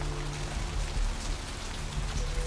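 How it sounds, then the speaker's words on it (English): Steady rain in a video game pours straight down in a constant hiss with a low rumble underneath, close and fairly quiet, with no speech. "Even though the rain is coming straight down."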